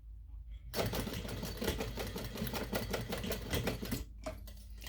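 Sewing machine running a top stitch across the top of a fabric buddy ID pouch, a loud, steady rapid needle clatter lasting several seconds before stopping abruptly, with a brief pause and short restart at the end.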